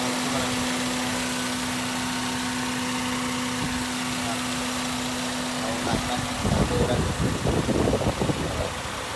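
A 2014 Toyota Vios with its original, stock engine idles in the open engine bay, giving a steady close hum that turns louder and rougher near the end.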